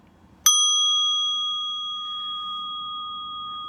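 A mindfulness bell struck once with a full stroke, a clear bright ding that rings on and slowly decays over several seconds in a quiet room.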